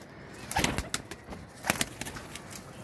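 Ferozpuri pigeons on a rooftop loft, soft cooing and light fluttering in short bursts, with a couple of clusters of activity close by and no talk.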